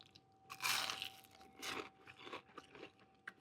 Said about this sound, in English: I'm gonna get a waffle fry in here.